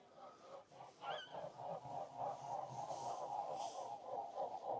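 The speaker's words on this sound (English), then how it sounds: "There's geese." A flock of geese honks continuously at a distance, overlapping nasal calls forming a steady chorus outdoors in the Lincolnshire countryside.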